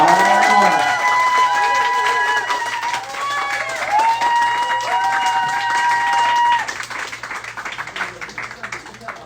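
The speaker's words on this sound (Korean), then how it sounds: "박수가 너무 좋다." An audience at an indoor book club gathering claps and cheers in a sustained burst of applause, with voices and chatter mixed in throughout.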